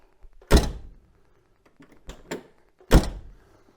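An MGB's driver's door slams shut twice with solid, close thunks, the first near the start and the second near the end, separated by quieter latch and handle clicks in between.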